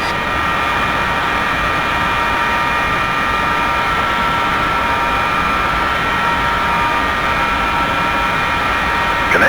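The left jet engine of an F-4E Phantom starts up in the DCS flight simulator, a steady, loud roar of rushing air and whine that holds evenly throughout, with no talking over it.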